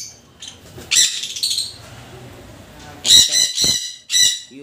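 Red factor pineapple conures and yellow-sided conures let out loud, harsh squawks and chirps in close bursts. A quieter stretch of softer chatter separates the bursts before the shrill calls return.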